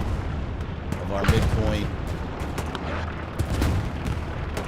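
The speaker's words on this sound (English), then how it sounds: "Atong Panzer dropping arty strikes inside of the cemetery area" Artillery strikes in the video game Hell Let Loose, on Omaha Beach around a cemetery, rumble as distant booms and crackling explosions under a commentator's voice.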